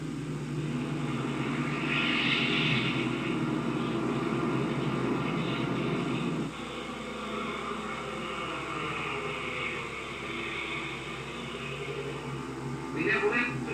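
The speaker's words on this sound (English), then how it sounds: "We have left the ground. We are flying." Engines of a 1938 airliner roar steadily through takeoff and into low flight over the field's buildings, a broad continuous drone that shifts in tone midway, with cabin voices faintly beneath.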